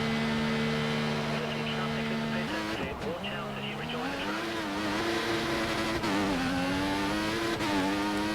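A Formula 1 car on the Belgian Grand Prix circuit in the F1 2014 racing game holds a steady high engine whine that dips and climbs through gear changes, while someone commentates over it.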